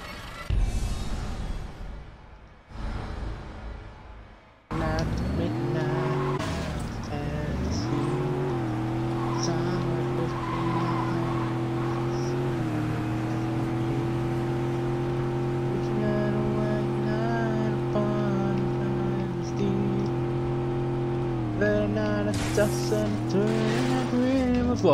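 A car in the video game Saints Row 2 drives with a steady engine drone and tire noise, revving and shifting pitch over long stretches, while someone talks and exclaims over it throughout.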